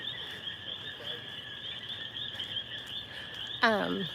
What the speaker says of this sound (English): So here, these are our cokies. These are the island frogs. Can y'all hear them?